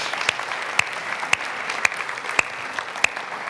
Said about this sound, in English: Can we just give each one a round of applause?